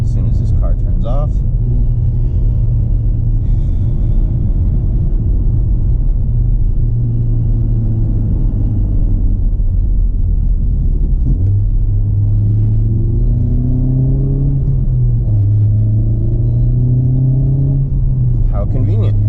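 A 2018 Honda Civic Type R FK8 driven on an open road, its engine a steady low rumble with gear changes and pitch rising as it accelerates, while someone talks over it.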